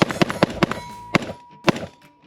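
Rifle rounds from a Daniel Defense MK18 AR pistol striking a swinging steel target at an outdoor range, a fast string of sharp metallic clangs followed by two more spaced ringing hits that fade out.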